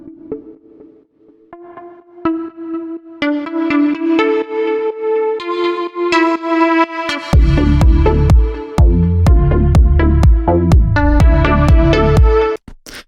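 An electro house track, a remake at 124 BPM, opens with a plucky synth riff, then a heavy four-on-the-floor kick and thick bass drop in, loud and steady.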